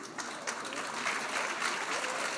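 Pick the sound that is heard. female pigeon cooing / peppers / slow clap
slow clap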